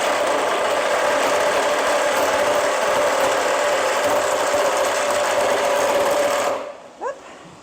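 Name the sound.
Sawzall reciprocating saw cutting screws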